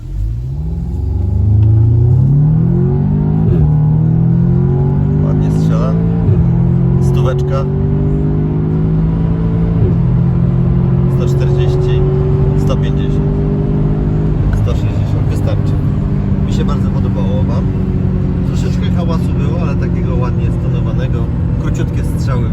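An Audi sports car engine revs up through several gears on a highway, rising in pitch with each shift, loud and close from inside, with occasional talk over it.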